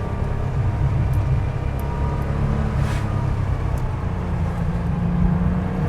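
Air-cooled Porsche 911 fitted with 991 GT3 Cup suspension, held in second gear through a corner with a loud, steady engine drone and road noise throughout.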